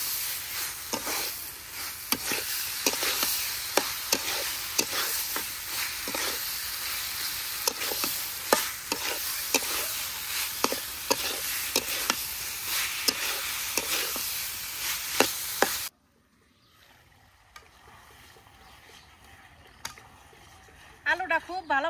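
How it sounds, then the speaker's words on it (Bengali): Potatoes stirred and fried in a spice paste in oil, giving a steady close sizzle with rhythmic scraping stirs for about sixteen seconds, then a quieter stretch of soft frying with a few faint clinks. "আলুটারে মশলার মাঝে একটু ভালো করে কষে নেই।"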